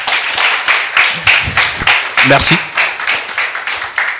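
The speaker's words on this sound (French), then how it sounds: "Merci sous vos applaudissements, s'il vous plaît." An audience at a French talk on balancing work and family life claps in a steady, dense round of applause, while a nearby voice speaks briefly over it throughout.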